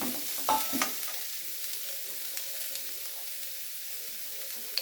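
A large onion goes into a hot pan for tuna masala: a few quick clinks and stirring sounds at first, then a steady, soft sizzle with a faint click at the end.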